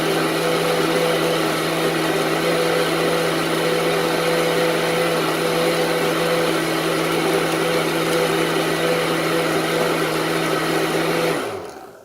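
A blender grinds a homemade spice blend in one steady, loud, continuous whir with a constant motor hum for about eleven seconds, then cuts off abruptly near the end.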